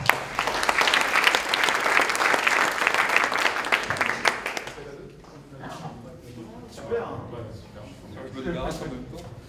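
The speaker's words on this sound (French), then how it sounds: "un peu de musique, on applaudit" Audience applause at a music association presentation evening, loud sustained clapping from a crowd that fades halfway through into scattered claps, with voices talking over it.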